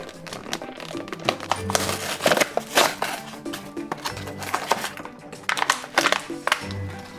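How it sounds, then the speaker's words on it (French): Crinkly plastic packaging is crumpled and torn while a Strawberry Shortcake Raspberry Tart doll is unwrapped, with dense rustling and crackling bursts that come close and fairly loud throughout. "On va maintenant déballer Lily Framboise, Raspberry Tart."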